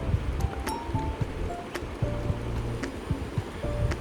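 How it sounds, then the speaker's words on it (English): Steady rain falls in Goa during the wet season, a dense hiss of droplets and splashes with a cool breeze, continuous and close, with faint scattered background tones. "We were just enjoying the splashes of rain, listening to the rain droplets and the cool breeze."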